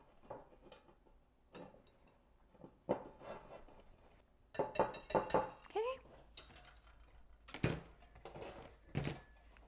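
A whisk clicks and scrapes against a bowl in quick bursts, mixing mango cookie ingredients with grated nutmeg, close and moderately loud, with softer kitchen clinks in between.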